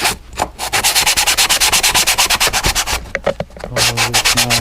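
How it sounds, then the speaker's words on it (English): A thermostat part rubbed back and forth on sandpaper laid on a hard, flat countertop: loud, rhythmic rasping strokes in quick succession, close up, with a short pause before more scraping. "put some sandpaper on it"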